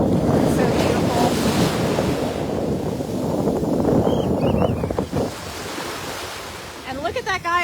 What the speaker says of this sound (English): I love hearing the waves.